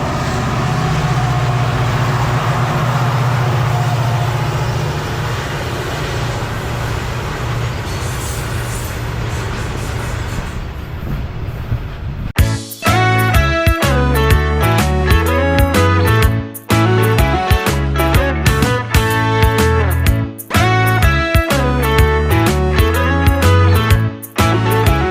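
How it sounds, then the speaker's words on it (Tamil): Low rumbling roar of a train, then a rapid rhythmic clatter of wheels as carriages rush past close by at speed. "ஸோ இப்போ தான் ட்ரெயின் வருது போல்."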